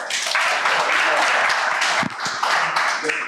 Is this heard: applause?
yes